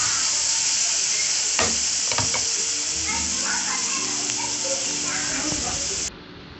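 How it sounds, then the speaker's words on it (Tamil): Finely chopped medium onion sizzles steadily as it sautés in a pan for green hariyali chicken, with a few scraping stirs and a voice talking over it. "ஒரு மீடியம் சைஸ் ஆனியனை பொடியாக நறுக்கி இது கூடவே சேர்த்து நல்லா வதக்கிக்கலாம்"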